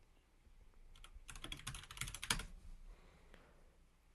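A failing computer keyboard is typed on in a quick burst of soft key clicks lasting about a second, quiet and close, with a stray tap afterward.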